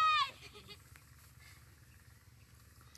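A goat caught by hand gives one loud bleat at the start, then only faint background sound and distant voices follow.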